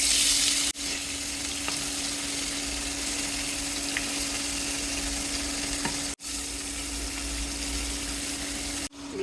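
More fish sizzle in a pan topped up with extra oil, giving a steady, close crackling fry that runs throughout. A few short dips break the flow.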